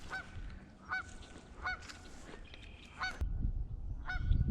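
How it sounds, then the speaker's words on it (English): Two geese honk repeatedly outdoors, loud and close, in short spaced bursts of calls over steady background rustle. "I got these two geese that won't shut up."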